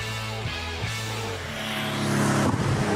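Guards red Porsche 911 engine running with a steady low drone, rising and growing louder toward the end, heard close and alone.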